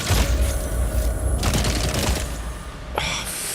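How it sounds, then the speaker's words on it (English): Grenade blast and heavy gunfire in the sci-fi shooter Dune: Awakening: a dense, loud barrage of shots and booms runs throughout, with a sharp burst near the end. "Right, have a grenade then."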